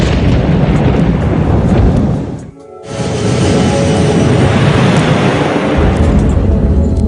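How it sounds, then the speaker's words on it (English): A severe thunderstorm roars loud and close, a dense wash of heavy rain and rumbling thunder that drops away briefly near the middle before surging back in full force. "they head straight into the thunderstorm"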